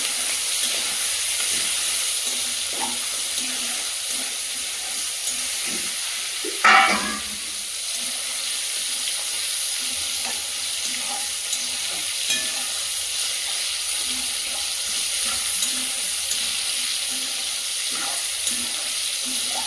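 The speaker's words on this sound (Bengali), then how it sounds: "তেলটা গরম হয়ে গেছে, এবার চিংড়ি মাছগুলো দিয়ে দেবো।" Large river prawns hit hot oil with a sudden loud sizzle, settling into a steady crackling fry and hiss with occasional stirring sounds, no voices.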